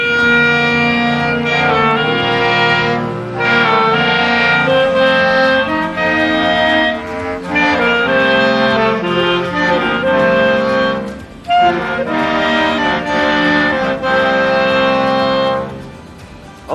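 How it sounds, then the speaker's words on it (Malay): A clarinet and bass clarinet section of a school wind orchestra playing a sustained, flowing passage together, warm woodwind tone with a low bass line beneath, loud and close, no talking. "Itu adalah bunyi clarinet di mana kita dah dengar tadi alunan-alunan clarinet."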